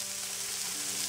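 Vegetables for celery pulao, with carrots, onions, peppers and peas, frying in a pan on high heat, giving a steady, close hiss of sizzling with no other sounds.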